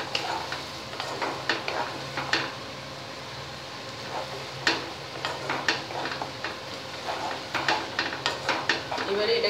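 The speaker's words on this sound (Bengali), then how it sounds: "এবারে জিরের গুঁড়োটা দিয়ে দিচ্ছি। ভালো করে মশলাটা কষাতে হবে।" Cumin powder masala is stir-fried in a pan for Bengali bhetki fish kalia: a low sizzle runs throughout, with frequent close clicks and scrapes of a spatula against the pan.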